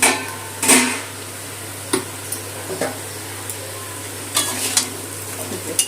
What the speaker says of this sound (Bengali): আলুটা বেশ লাল করে ভেজে নিয়েছি